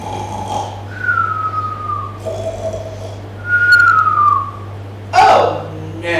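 A voice imitates a bear snoring while a children's bedtime story is read aloud, giving long drawn-out whistling snore tones that rise and fall in several separate breaths, with a short burst at the end.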